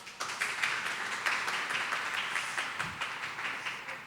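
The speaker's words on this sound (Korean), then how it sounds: "큰 박수 부탁드립니다" Audience applause in a Korean science lecture hall, a steady wash of many hands clapping at moderate distance for about four seconds, with no voices over it.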